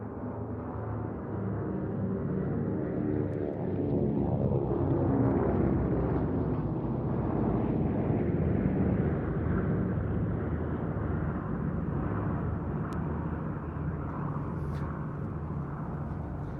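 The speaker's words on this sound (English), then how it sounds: "There we see the B-17 with 3 Mustangs, the P-40F and the Wildcat, followed by the other heavies, the Catalina, the C-47 Skytrain and the Beech-18." A WWII flypast of a B-17 bomber escorted by three Mustangs, a P-40F and a Wildcat, followed by a Catalina, a C-47 Skytrain and a Beech-18 at a VE Day air show, producing a steady, broad piston-engine drone that swells and holds throughout.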